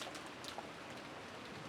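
Steady rain falling in a scene from the Umineko visual novel game, an even broadband hiss with a few scattered drop accents, continuous and moderately quiet throughout.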